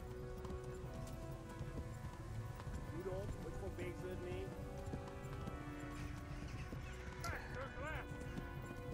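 A horse gallops in the medieval video game Kingdom Come: Deliverance, its rapid clip-clopping hooves running continuously beneath a dense game soundtrack, with someone talking over it.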